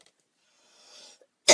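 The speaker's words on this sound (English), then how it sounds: "Excuse my coughing." A single sharp cough bursts out near the end, close and loud, preceded by a faint breathy intake and near silence; the person has had a lingering cough after the flu.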